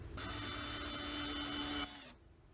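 Brief, quiet electric drill or screwdriver whir driving a screw to fix a car roof rack in place, a steady buzz lasting under two seconds before winding down.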